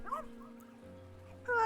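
Puppy in the video game Rainswept giving a short yip and soft whimpering whines, then a louder whine at the close, over a low steady game hum.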